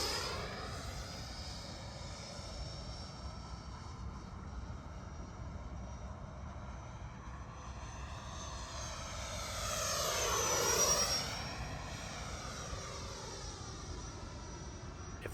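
An FMS Super Scorpion 90mm EDF sport jet, a radio-controlled model on 8S power, whooshes past in flight; its ducted-fan whine stays faint and distant, swells into a brief louder sweep near the middle, then fades again, with no talk.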